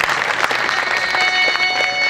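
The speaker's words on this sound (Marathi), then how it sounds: "एकदा जोरदार टाळ्या त्यांच्यासाठी झाल्या पाहिजे" An audience at a live Marathi shahir performance bursts into loud, sustained applause for the singer, a dense wash of clapping that holds steady throughout.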